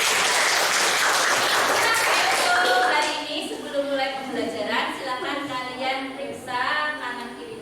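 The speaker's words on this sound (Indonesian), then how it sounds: "Tepuk tangan untuk kita semua" A classroom of students claps together, a dense burst of applause that fades after a few seconds into voices talking.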